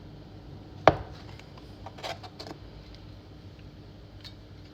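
A knife cuts through homemade cheese made from four packs of store-bought 2.5% milk and sour cream, giving one sharp tap on the board followed by a few softer, scattered cuts.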